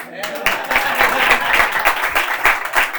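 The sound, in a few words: audience applause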